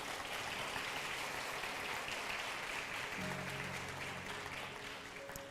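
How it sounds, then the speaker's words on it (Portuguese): Congregation clapping during a church service, a faint, steady wash of applause across the room, with a brief sustained tone entering partway through. "Você pode aplaudir ao Senhor por isso?"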